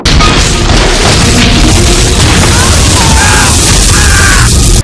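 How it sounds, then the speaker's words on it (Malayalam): Gunfire and explosions from a military scene in a comedy movie edit roar continuously and loudly, with deep booms and a dense rumbling barrage throughout. "മിലിറ്ററിയാണ്. അപ്പൊ ഇല്ലാത്ത വെടിവെച്ചൊക്കെ കേൾക്കും."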